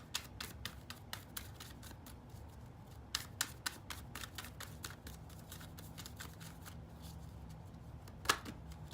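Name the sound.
shuffling tarot cards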